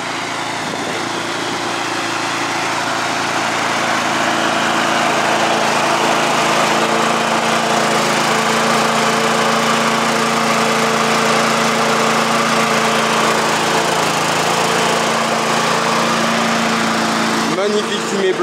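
A SABO petrol lawn mower, freshly serviced with its carburettor cleaned, oil changed and blade sharpened, runs steadily at idle with a constant loud buzzing drone, putting out heavy blue-white smoke.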